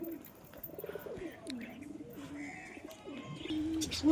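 A single pigeon coos nearby in soft, wavering low calls repeated through the clip, with light chirps and faint rustling around it.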